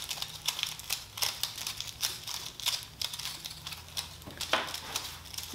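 Strips of duct tape are pulled and pressed onto scrap material to build a Halloween witch's cauldron, giving a steady run of close crinkling, tearing rasps with no talk over it.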